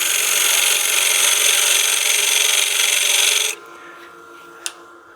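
Wood lathe turning a tenon on an artifact pot, a loud steady rasping cut that runs for several seconds, then drops away to quiet with a single brief tap.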